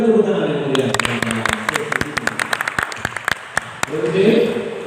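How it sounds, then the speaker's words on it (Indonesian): An audience at a competition hall applauds in a burst of scattered, sharp claps between stretches of an announcer's amplified speech at the start and end. "Baik penonton, berikan tepuk tangan yang mulia."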